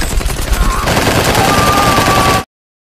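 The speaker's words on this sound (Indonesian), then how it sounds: "mereka pun diberondong peluru" Loud, continuous machine gun fire from the film The Raid, a dense rapid stream of shots for over two seconds that cuts off abruptly into silence.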